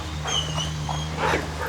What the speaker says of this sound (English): Oh, you're whining today, are you?